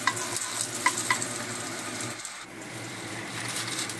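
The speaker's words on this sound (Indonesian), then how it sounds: "Selanjutnya kita goreng bawang putih geprek." Crushed garlic fries in a wok, giving a bright, continuous sizzle up close. Quick scrapes and clacks from stirring punctuate the sizzle throughout.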